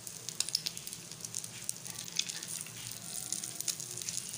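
Chicken kebabs, five or six at a time, fry in oil, giving a close, steady crackle and sizzle dotted with sharp pops and spits.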